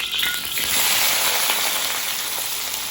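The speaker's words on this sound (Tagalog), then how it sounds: "Nilagay ko na yung bawang at sibuyas." Garlic and onion sauté in a hot pan, giving a dense, continuous crackling sizzle that stays strong and even from start to finish, with no talking.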